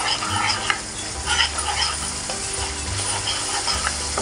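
An onion fish curry cooks in a pan with a continuous bubbling sizzle while a spoon stirs and scrapes it in repeated short strokes, close and fairly loud, with no talking.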